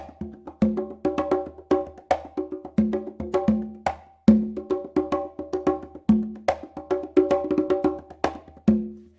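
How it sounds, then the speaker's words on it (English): Hand-played congas tap out a Bayon rhythm in a steady looping pattern of sharp open slaps and tones, close and clear, with no voices. "One of my favorite rhythms to play on the congas"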